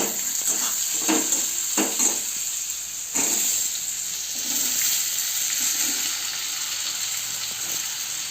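Potato pieces fry in a hot pan for a fasting-day potato dish. A close, continuous sizzle carries a few scraping stirs in the first three seconds, then settles into an even hiss.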